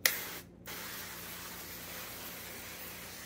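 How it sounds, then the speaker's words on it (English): Avocado oil cooking spray hisses onto baking pans in a continuous close spray that runs unbroken after a short pause, steady and soft with no talking. "I'm gonna spray the pans with avocado oil spray."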